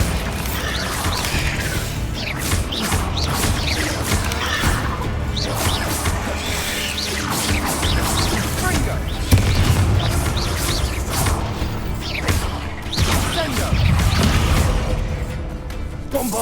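Repeated Bombarda blasting spells explode in Hogwarts Legacy, a long run of loud booms, crashes and cracking debris bursts with scattered mechanical clatter between the impacts.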